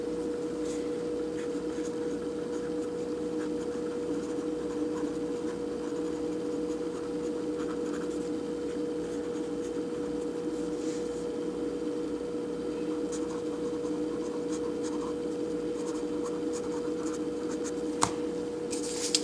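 Pen or pencil writing a grocery list by hand on paper, a soft, steady scratching close by that runs for the whole stretch over a constant low hum of the room, with no voices.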